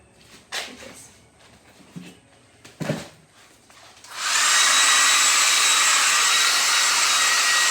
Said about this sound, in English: I'm going to blow dry this with a blow dryer.